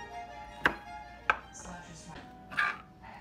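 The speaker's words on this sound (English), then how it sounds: "So we're cutting the potatoes into like half inch sticks, like French fry style." Potatoes sliced into half-inch fry-style sticks with a knife, three crisp thunks on a cutting board with softer shuffling between, while someone speaks quietly in the background.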